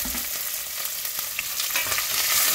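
Curry leaves, dried chillies and onion frying in a pan of hot oil, making a steady crackling sizzle with occasional stirring scrapes and small pops, close and fairly loud, with no voices.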